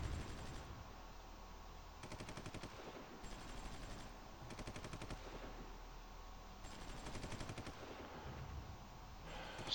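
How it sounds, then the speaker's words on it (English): Continuous rattling artillery barrages and gunfire from the WWII strategy game Supreme Ruler 1936 during an invasion of Ethiopia, loud, dense and unbroken, with rhythmic bursts pulsing every second or two and no voices. "it looks like the enemy's launching some artillery barrages, which seem to be fairly effective against us"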